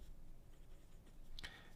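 A MAJOHN C4 fountain pen with a medium nib writes on paper, making a faint, quiet scratch with one brief, sharper stroke near the end.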